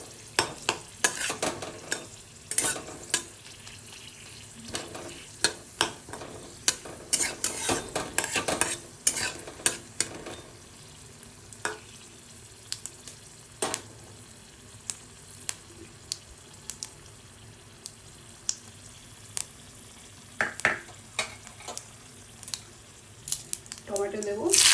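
Whole cumin seeds and dried red chillies fry in hot oil in a pan while paneer with moong dal is cooked, a steady close sizzle broken by frequent sharp crackles and spoon-stirring clatter.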